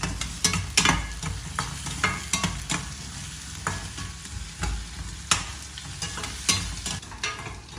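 Chopped onions fry in a pan for a brinjal mash, with steady sizzling broken by repeated scraping stirs of a spoon against the pan, close and moderately loud, with no talking.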